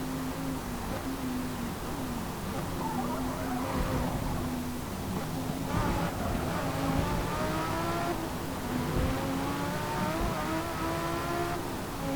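An Audi race car in Forza Motorsport 3 revs hard and climbs through its six gears, the engine note rising in repeated sweeps between quick shifts, loud and close for the whole stretch.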